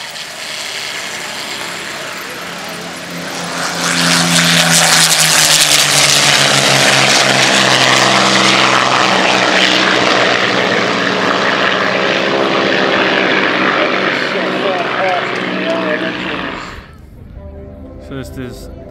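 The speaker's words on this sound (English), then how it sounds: "First is the C-47, two Spitfires and the Harvard." Propeller aircraft at an airshow, a C-47 with two Spitfires and a Harvard, swell into a loud, close droning flyby that peaks and holds, then cuts off abruptly to quieter background with voices nearby.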